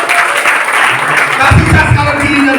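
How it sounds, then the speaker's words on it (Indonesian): Audience applause at a church worship session, a dense steady burst of clapping from a crowd that lasts throughout, loud and close, with voices mixed in. "tepuk tangan sekali lagi."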